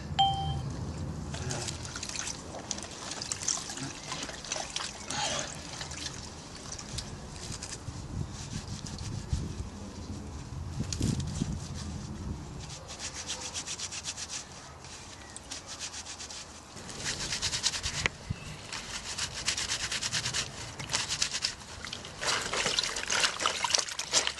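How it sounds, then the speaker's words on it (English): About a litre of water sloshes and trickles as laundry is scrubbed and rubbed by hand, with close, irregular bursts of wet friction, dribbling and a few light clinks, no voices. "So I'm going to use that to do my laundry"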